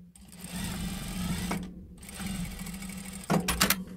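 Sewing machine stitching the seam of a 3D fabric face mask, a close, steady whirring run with a short pause in the middle, then brief bursts and clunks near the end.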